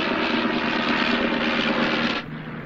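A World War II–era aeroplane engine drones steadily in flight, a loud, continuous propeller hum that drops slightly in level near the end, with no talk.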